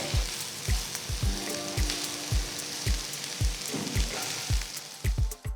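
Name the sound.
sauteing sliced onions with potatoes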